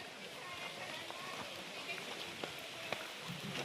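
Soft, steady patter of rain on an open umbrella close by, with a few sharper drops standing out.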